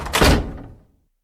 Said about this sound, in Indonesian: suara pintu kamar tiba-tiba tertutup dan Sri terhenyak mendengar suara pintu itu.